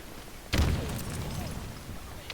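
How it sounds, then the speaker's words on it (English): Grenade going off in Halo Infinite, a single sudden booming blast with a deep low thump that rumbles and decays over about two seconds, a faint crackle near the end. "Grenades, go boom"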